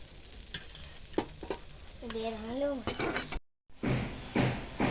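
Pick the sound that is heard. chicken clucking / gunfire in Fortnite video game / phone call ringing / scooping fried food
scooping fried food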